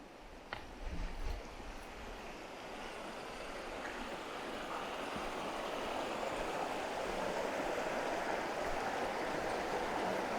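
A river flows steadily past a secluded riverside camping spot, a soft, continuous wash of water heard from nearby, with a few brief knocks at the start and no talking.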